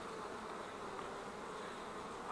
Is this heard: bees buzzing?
yes